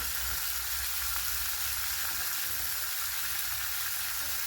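Spices, tomato and onion frying in a pan, heard as a steady, dense sizzle at close range that continues unbroken, with no talking.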